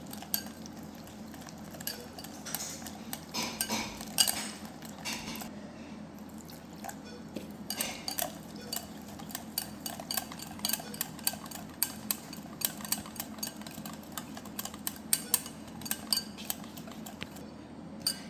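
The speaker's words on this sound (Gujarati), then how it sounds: "હવે આ મિક્સ થયેલામાં આપણે પાણી નાખશું ધીરે ધીરે કરીને" A spoon stirs a spice and flour mix in a bowl while water is slowly added, making a thick batter for a fenugreek dish. Soft repeated scrapes, squishes and light metal clinks come in an uneven rhythm, close to the microphone and without any talking.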